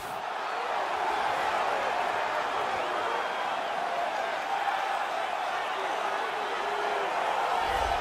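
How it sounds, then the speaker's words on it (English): Crowd at a UFC heavyweight fight night roaring as Derrick Lewis walks out, a broad sustained cheer filling the arena while a commentator talks over it. "what a pop from the crowd as this guy makes the walk"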